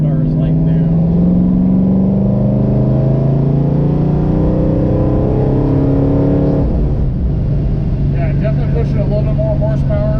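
A 1967 Ford Mustang convertible with a 289 V8 drives along, its engine producing a loud, steady droning rumble that shifts pitch partway through, heard close up with someone talking over it.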